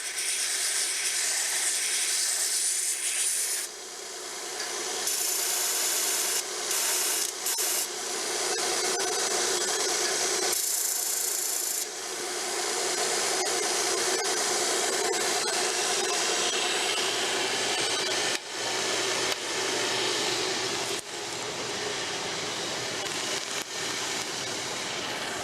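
A Burr King belt grinder chamfers the edge of a metal workpiece, giving a loud, steady abrasive rasp that runs almost without a break for about 25 seconds, with a few short dips as contact eases, and no talking.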